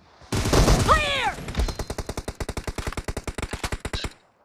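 Rapid automatic gunfire in the mobile battle game BGMI during a team deathmatch, a loud burst of evenly spaced shots lasting several seconds, preceded by a brief sweeping game sound effect.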